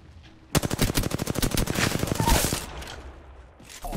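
A rapid, loud burst of automatic fire from an R-301 rifle in Apex Legends, roughly twenty evenly spaced shots over two seconds, then a fading tail and quiet.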